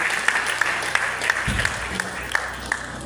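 Congregation applause at a church convention, sparse rhythmic clapping with sharp repeated claps over a low background murmur and a brief voice.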